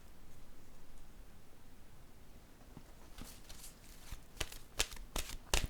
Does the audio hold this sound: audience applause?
no